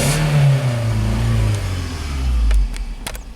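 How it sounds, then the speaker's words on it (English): A Toyota engine with a single cylinder misfire runs up close and loud, revving slightly with a low, uneven drone and a few sharp ticks near the end. "It has a single cylinder misfire."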